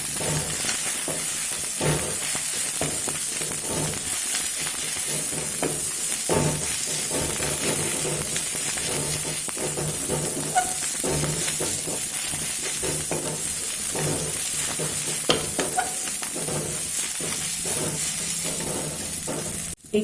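Fenugreek leaves roasting in hot oil give a continuous close sizzle and hiss, with occasional stirring scrapes and clicks rising through the steady frying noise.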